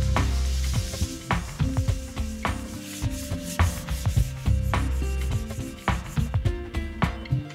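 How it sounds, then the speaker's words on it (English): Sanding of a kitchen splashback ahead of painting, with steady rubbing strokes and repeated scraping sweeps of abrasive over the surface, close and fairly loud, with no talking. "We're going to sand first because we want a smooth finish and we want the top coat to adhere."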